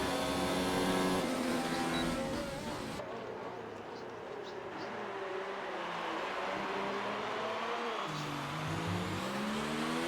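Mercedes and Ferrari race cars scream past with rising and falling engine whines, a high-pitched pass fading, then another car's note sweeping up, moderately loud and without talk.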